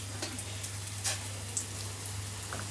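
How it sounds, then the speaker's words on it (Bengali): Rainwater dripping in a home kitchen, a few faint scattered drips and patters over a low steady hum. "এখানে একটা বৃষ্টির পানি পড়ছে মনে হয়।"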